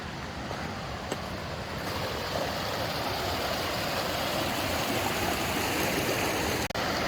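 A milky, glacier-fed stream at Mount Rainier rushes beneath a hiking-trail bridge, a loud, steady, close roar of flowing water with no talking.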